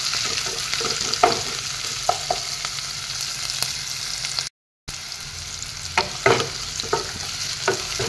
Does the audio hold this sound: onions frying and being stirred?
yes